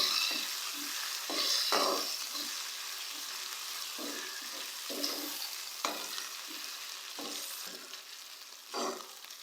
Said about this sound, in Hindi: अदरक लहसुन के पेस्ट को हम लोग 2 मिनट तक प्याज के साथ फ्राई करेंगे।